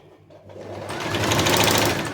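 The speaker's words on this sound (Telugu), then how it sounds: "దూరం స్టిచ్ పెట్టుకొని కుట్టుకోవాలి" A sewing machine stitching blouse fabric, a steady fast whirring hum that builds up in the first half second and then runs continuously and close by, with no speech.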